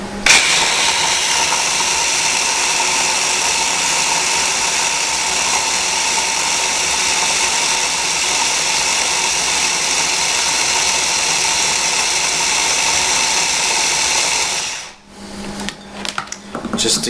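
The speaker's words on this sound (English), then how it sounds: "Now you want to put the lid on and whiz this up." Fresh garlic for hummus is blended in a food processor with the lid on, giving a steady, loud, close motor whir that runs without a break for about fifteen seconds, then stops and restarts briefly.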